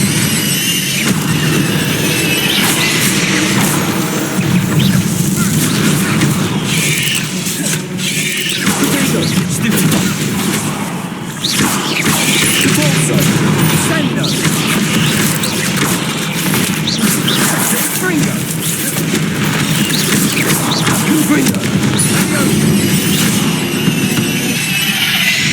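Loud, continuous booming blasts from Confringo spells fill Hogwarts Legacy combat, a dense, roaring wash of explosions and crashes with no break.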